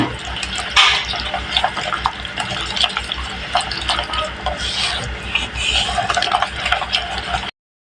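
Egg pitha batter with a pinch of turmeric is mixed briskly in a bowl, giving rapid, irregular wet stirring and clicking strokes, close and fairly loud, continuing without pause until it stops abruptly.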